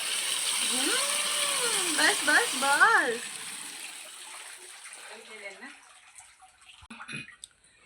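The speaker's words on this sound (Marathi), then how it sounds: "पाण्याला फोर्स बघा किती नळाला" A village tap gushes forcefully while leafy drumstick greens are washed. The close, hissing stream runs for about three seconds under a voice and then stops, leaving quieter handling sounds.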